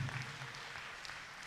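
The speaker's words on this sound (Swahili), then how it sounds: "Tupigie Bwana Yesu makofi mazuri." A church congregation at a Sunday service claps together in praise, a soft, somewhat distant wash of many hands with faint scattered accents and no clear voices over it.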